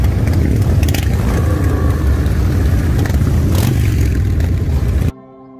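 Big motorcycles ride past in a Satudarah gang convoy in the Netherlands, a loud, dense rumble of engines with revving swells and clatter that cuts off abruptly near the end.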